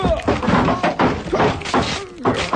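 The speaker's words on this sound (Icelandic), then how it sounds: "Var nú ekki óþarf að brjóta hurðina?" A door is broken in with a string of loud, heavy thumps and crashing blows in an uneven rhythm, close by, with voices mixed among the impacts.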